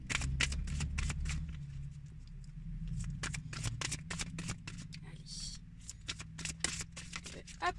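Oracle cards are shuffled by hand in quick, crisp riffling bursts that repeat at irregular intervals beneath a person speaking.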